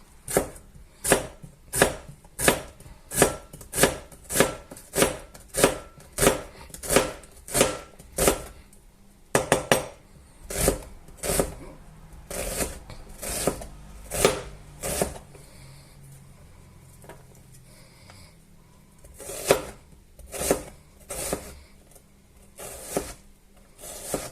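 A knife chops an onion into small pieces on a board, a rapid run of close, sharp, evenly spaced cuts, then slower irregular chops and a final quick burst.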